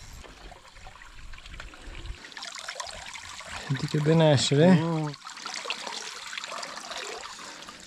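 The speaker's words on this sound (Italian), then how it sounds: "Acqua. Questa è la fontana." Water trickles and splashes steadily from a mountain fountain, a soft continuous wash under the scene, while a person speaks briefly in the middle and a short outdoor exclamation cuts through.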